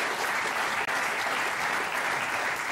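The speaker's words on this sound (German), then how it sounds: "Das ist nochmal dein Applaus" German TV talk show studio audience applauding, a full, even roar of clapping from many people, loud and sustained with a momentary dropout partway through and no talk over it.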